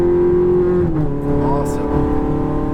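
Ferrari F430 engine drones steadily on a racetrack under acceleration, a loud continuous note that climbs slightly mid-clip, with a coach's voice talking over it in the car.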